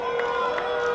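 Wrestling crowd cheering and roaring at an intergender championship match, a steady dense wash of voices with swells at regular intervals, loud and continuous.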